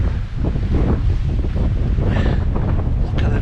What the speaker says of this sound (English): How crazy is that wind?